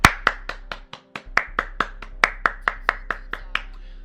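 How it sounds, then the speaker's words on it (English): A single person claps alone in a round of applause, about seventeen sharp, close, evenly spaced claps ringing in a small room with a brief pause near the start. "Can we get a round of applause, please?"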